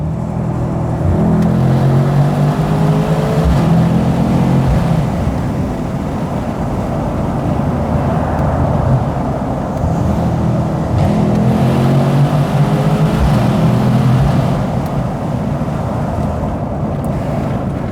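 A 2019 Mercedes AMG C63s exhaust rumbles inside a tunnel, rising in two long swelling revs over a steady loud roar of road and wind noise, with no talk.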